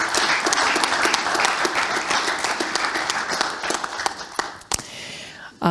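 Loud, sustained applause from an audience, dense clapping throughout that thins out toward the end.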